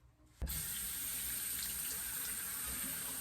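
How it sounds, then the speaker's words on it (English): Cold water runs steadily from a faucet onto doll hair, a constant close splashing hiss that starts abruptly after a brief quiet moment and continues evenly to the end. "So then just the cold water setting on the faucet is good."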